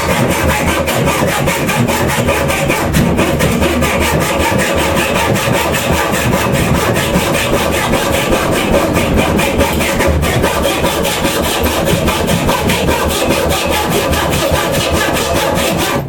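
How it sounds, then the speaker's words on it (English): A sharp hand saw cutting through scrap timber while building a saw stand, steady continuous rasping strokes at a fast rhythm, close and loud throughout. "And this is a sharp saw as well."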